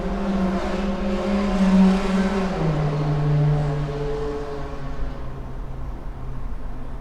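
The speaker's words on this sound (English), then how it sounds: "the cars and the sirens and all of that. Like, that's really, I'm in New York right now. That's really New York." Traffic on a New York City street: a car engine hums and revs as it passes, a steady low drone that swells then eases, close and loud, with no voices.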